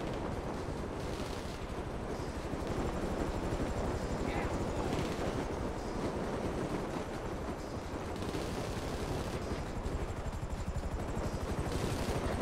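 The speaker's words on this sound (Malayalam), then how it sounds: "അടുത്ത ഹെലികോപ്റ്റർ" A helicopter in the GTA 5 Online video game gives a steady, loud, rhythmic rotor drone with dense engine noise throughout, mixed with bursts that sound like gunfire or explosions.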